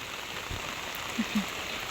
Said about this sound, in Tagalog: Yung patak ng ulan.